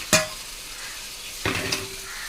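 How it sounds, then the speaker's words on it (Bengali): Eggplant frying in a pan, a soft steady sizzle broken by two sharp utensil clinks or stirs against the pan. "এদিকে বেগুন ভাজা হচ্ছে"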